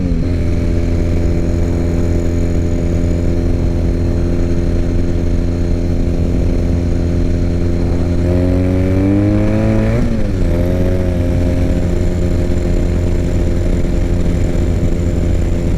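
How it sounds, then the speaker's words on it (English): A 2006 Triumph Bonneville motorcycle engine holds a steady loud drone, then revs up sharply through rising tones around the midpoint before settling back into a sustained ride. "Bike's fast. Yeah, this bike's very fast. We're on 80 in no time."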